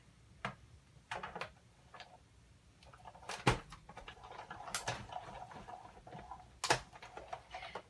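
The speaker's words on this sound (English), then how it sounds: "And I'm going to add my cutting pad and just crank this through the Big Shot." A Big Shot die-cutting machine being cranked with a cutting pad for a stamped card, faint scattered clicks and ticks that come in an uneven rhythm, with a few sharper knocks and no talk.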